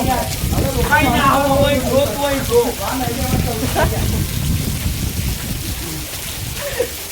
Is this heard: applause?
no